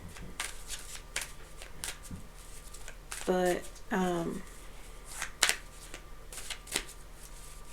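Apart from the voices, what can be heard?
playing cards being shuffled during a tarot reading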